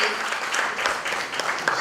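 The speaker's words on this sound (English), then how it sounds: "go ahead and clap for that" Audience at a grief symposium applauding in a dense, steady round of clapping that fills the room at moderate loudness, with no voices standing out.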